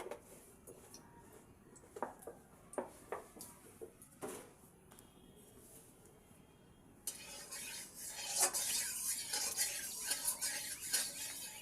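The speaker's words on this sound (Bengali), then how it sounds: "অল্প করে তেল দিয়ে নেড়ে নেব।" Ground lentil paste stirred with oil in a pan using a metal utensil, with faint scattered scrapes and clicks, then a louder steady sizzle in the second half, no voices.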